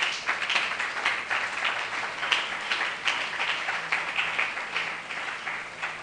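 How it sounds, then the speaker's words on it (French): A church congregation applauds during a worship service, a steady, dense patter of many hands clapping that carries on evenly for several seconds. "Acclamons la parole de Dieu."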